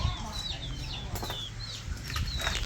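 Farm chickens and ducks in a pen cluck and squawk close by, with short rising calls and some wing flapping over a low rural background.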